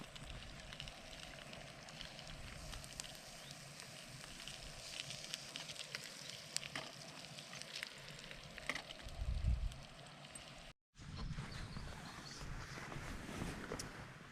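Chipolata sausages fry on a small camping stove at a wild camp near Sheep's Tor, a steady close crackling sizzle with pops, cut by a brief dropout near the end.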